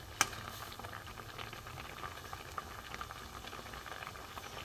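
Fish roe simmering in turmeric water in a pot, a soft, steady bubbling boil heard close but quietly, with one small knock near the start.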